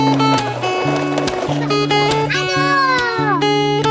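A cat meows loudly and close by, a drawn-out call, over a sustained tonal musical background.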